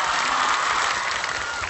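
A TV variety-show studio audience applauds to welcome a guest, a brief, dense, steady burst of clapping.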